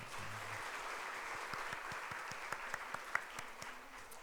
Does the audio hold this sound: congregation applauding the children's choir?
yes